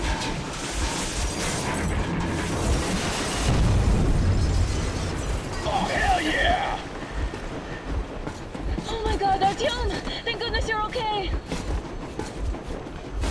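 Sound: train being blown up in video game Metro Exodus

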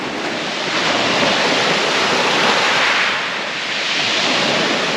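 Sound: waves on an empty beach on Sicily's coast

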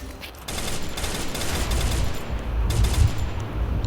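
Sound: gunfire in Free Fire video game

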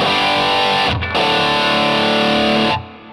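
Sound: distorted electric guitar amp without EQ

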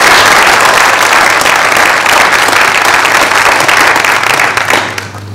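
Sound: audience applause for the panel

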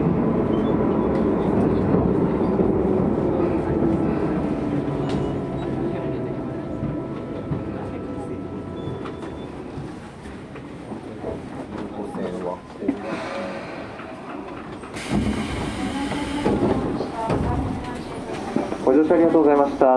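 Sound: Tobu 20000 series subway train running into the depot

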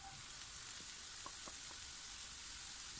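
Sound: browned onion and mushrooms frying in a pan

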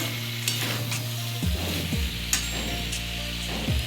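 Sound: stir-frying fish curry ingredients in a pan

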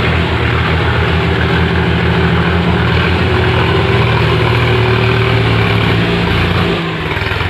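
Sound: farm tractor engine running

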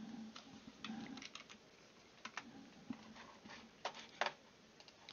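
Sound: typing on a computer keyboard

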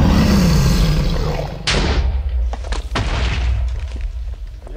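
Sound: TNT explosion in a video game

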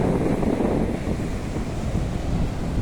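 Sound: waves on wide Velneshwar seashore

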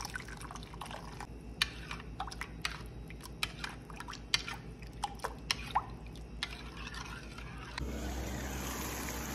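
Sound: fish boiling in pot for ginataang isda

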